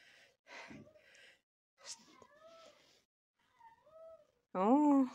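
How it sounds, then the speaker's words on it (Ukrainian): Cats howl outdoors in early spring, with several drawn-out, wavering yowls that rise and fall and end in one loud, close wail, between quiet pauses. "О, коти завивають."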